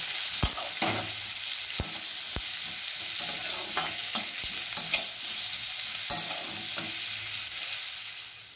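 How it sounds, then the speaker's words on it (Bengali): Onion and black cumin fry in a pan with a soft, steady sizzle, punctuated by repeated sharp clicks and scrapes of a spatula stirring against the pan, close and fairly quiet with no talking. "আমার এটা ভাজা হয়ে গেছে পেঁয়াজ কালো জিরে।"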